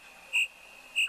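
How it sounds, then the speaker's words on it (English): Crickets chirp in a horror video game set inside a house, two short, bright chirps about half a second apart over a low, steady background. "I like that I can hear the crickets in my own house."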